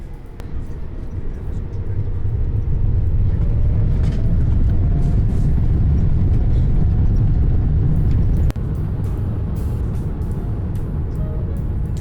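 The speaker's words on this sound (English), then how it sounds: "it's time to push back out of SFO and head on our way to Tokyo" A Japan Airlines 787 pushes back at San Francisco airport, heard from inside the cabin as a steady low engine and ground rumble that swells and holds, with faint clicks and thumps.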